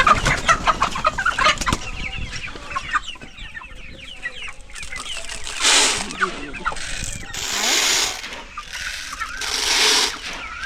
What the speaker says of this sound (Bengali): এগুলো হয়েছে সোনালী মুরগি।